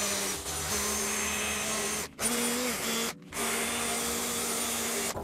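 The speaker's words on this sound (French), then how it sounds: "tu viens passer un coup de brosse métallique indispensable. Alors moi je le fais à la visseuse parce que c'est plus rapide" A cordless drill spins a wire brush to clean a plumbing fitting, a steady close whirring grind that stops abruptly twice and starts again, with no talking.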